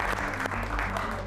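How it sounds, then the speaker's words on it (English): A team applauds after winning a high school sectional championship, a dense burst of clapping from a group in a room, loud and close. "You guys deserve to give yourselves a big round of applause for the effort out there tonight."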